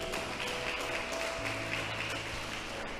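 A church congregation applauds, a dense continuous wash of clapping from many hands, steady and loud throughout with no pause.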